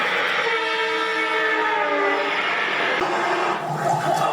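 Train sound effect in a Hindi drama: a steady rumbling train with horn-like tonal bands, loud and continuous throughout, with a shift in texture near the end.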